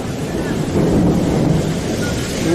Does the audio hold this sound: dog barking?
no